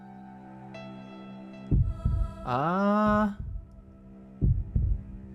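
A heartbeat sound effect from the Dies irae video game: two paired thumps, a long wavering droning swell, then two more paired beats, moderately loud over a steady low hum.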